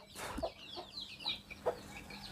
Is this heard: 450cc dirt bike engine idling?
no